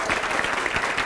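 Audience applause at a Hindi political discussion event, a brief burst of dense, steady clapping from a crowd, fairly loud and without a break.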